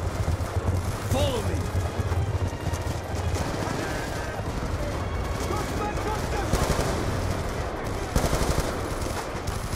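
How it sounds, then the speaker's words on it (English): Dense, loud gunfire in the Call of Duty Black Ops 2 campaign during a battle on horseback, with machine-gun bursts and shots running almost continuously alongside excited talk. "I don't even know what I just shot at."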